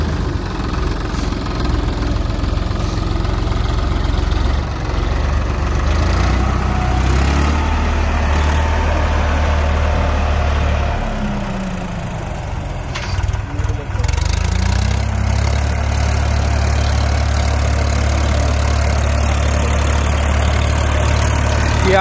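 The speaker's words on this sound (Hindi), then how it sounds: "ट्रैक्टर बिल्कुल स्मूथ चल रहा है, कोई धुआं वगैरह कुछ नहीं है किसी भी तरीके का" A Swaraj tractor engine idling steadily with a heavy low rumble, paired with a Land Force super seeder; the pitch dips and settles midway, and a voice talks over the running engine.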